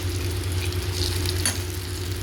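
Idli batter paniyaram balls fry in hot oil, giving a steady, close sizzle and crackle with soft bubbling and a faint stir partway through, no speech.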